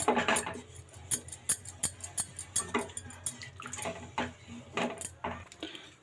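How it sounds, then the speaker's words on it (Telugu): A spoon stirs thick Bombay Karachi halwa in a pan, producing a series of sharp metallic scrapes and taps in an irregular rhythm, close and fairly loud, with no voices. "దగ్గర పడేంత వరకు అలా కలుపుతూనే ఉండాలి."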